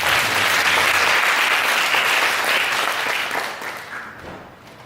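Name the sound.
congregation applauding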